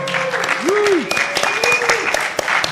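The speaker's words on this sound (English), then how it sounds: "Big round of applause, please, for Martin." Audience applause at a Star Wars Celebration fan event in Chicago, clapping from a crowd across the whole clip, mixed with music and brief voice sounds.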